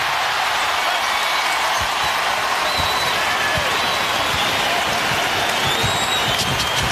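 Basketball arena crowd in a Celtics vs Suns game reacting in upset, a loud continuous roar with scattered claps and whistles, steady throughout with no clear break.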